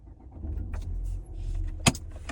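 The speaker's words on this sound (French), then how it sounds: "Donc c'est un démarrage sans clé." A Ford Focus Titanium with the 1.6 SCTi engine starts by keyless push-button, heard as a low mechanical hum and rumble inside the car, with a sharp click near the end.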